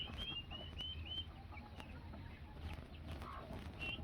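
Buff Orpington chickens clucking in a small backyard flock, several soft, scattered clucks and brief higher calls at moderate distance over a quiet outdoor background.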